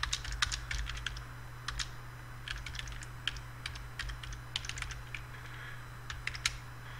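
Fast, light key clacks from typing on a computer keyboard, in uneven bursts of clicks close by over a low steady hum.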